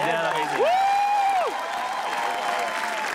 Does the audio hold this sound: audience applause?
yes